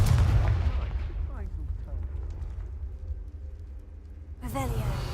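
Confringo explosion spell in the video game Hogwarts Legacy: a loud, deep blast that rumbles and fades, followed by a second booming burst near the end, with game music and effects underneath.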